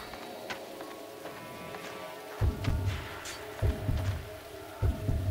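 Heartbeat that grows louder near an enemy in the survival horror game Siren: Blood Curse, deep paired thumps arriving about once a second, starting faint and becoming heavy, over a low eerie ambient hum.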